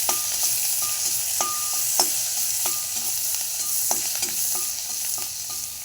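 Curry leaves frying in hot oil in a pan make a continuous crackling sizzle with a steady rhythm of spatula stirs and taps; no voices.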